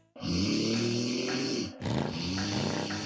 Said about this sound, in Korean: 매일 밤 시끄러운 코골이